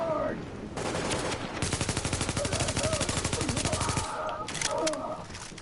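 Sustained automatic gunfire from The Division on PS4 Pro, a rapid, loud, evenly spaced machine-gun burst lasting a few seconds, with shorter shots before and after and faint voices in the background.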